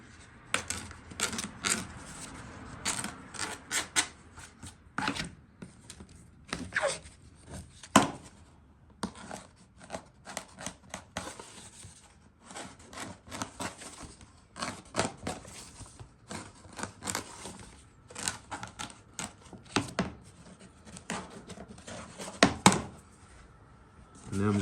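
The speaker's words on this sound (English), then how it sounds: "I'm just going to run around it with a razor blade. And I'm just scratching it." Repeated scratchy scraping strokes of a razor blade worked around a hole in a wooden chicken coop, in irregular bursts over about 25 seconds, with a person talking at times.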